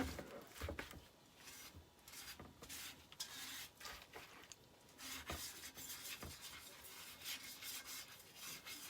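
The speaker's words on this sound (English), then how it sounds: "Grab a paper towel and just start to wiping it off." Irregular rubbing and squeaky wiping strokes, close up, as a paper towel is dragged across a wet etched glass surface, with no talking.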